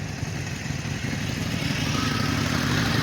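Secret Service motorcycles ride past near the US Capitol, a steady, close engine rumble that builds slightly over a few seconds, with no talking.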